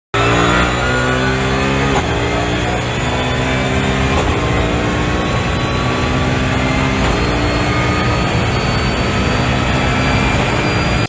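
A BMW E92 M3 fitted with a sequential transmission accelerates hard and loud, its engine pitch climbing then dropping sharply at each of several quick upshifts, with no lift between gears and no talking.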